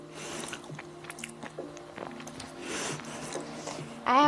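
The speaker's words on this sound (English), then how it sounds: "I hate the chewing sounds." Mouth sounds of chewing chocolate cookies, wet crunching and smacking close to the microphone with a faint tonal hum behind, no speech.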